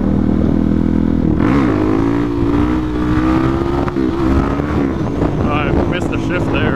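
A motorcycle engine drones steadily under wind buffeting as the rider cruises, its pitch wobbling briefly early on where a gear shift is missed, then settling back into a steady hum.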